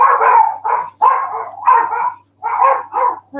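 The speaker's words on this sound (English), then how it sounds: "That's what they're barking at." Several dogs indoors bark at a delivery at the front door, a loud close run of about seven sharp barks in quick bursts with brief pauses, no talking.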